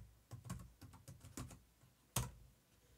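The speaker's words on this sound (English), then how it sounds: "Go ahead and type in TeamViewer in your Google search." Keystrokes on a computer keyboard while entering a Google search, a quick irregular run of close, crisp clicks with short pauses, ending in one sharper, louder key strike near the end.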